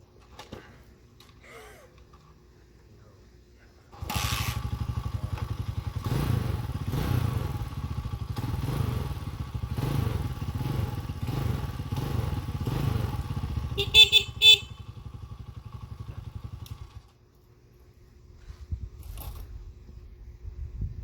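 A Tao TBR7 250cc dual sport motorcycle, freshly rebuilt at the top end, is kicked over and fires up, idling loudly and steadily with a pulsing rhythm for about thirteen seconds before shutting off.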